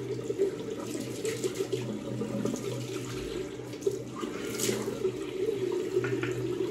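Tap water runs steadily into a bathroom sink during a face rinse before a wet shave, a continuous hiss and splash throughout with no one speaking.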